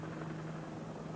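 A helicopter flies backwards at about 100 km/h during a difficult manoeuvre, giving a steady, close, continuous rotor drone with a strong low hum and no voices.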